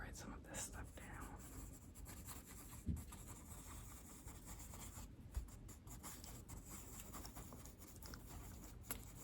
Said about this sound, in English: Let me just make sure I write some of this stuff down.